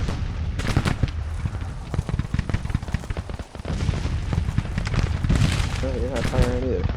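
In the Grand Tactician Civil War strategy game, Napoleon cannons fire in a battle scene as repeated booming shots and crackling gunfire. Someone talks over the continuous battle noise.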